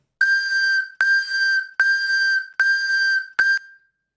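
A Class 484 train warning horn tone from Train Sim World 2 gives five sharp, bright whistle-like toots, each about half a second long, in an even rhythm with the last one shorter.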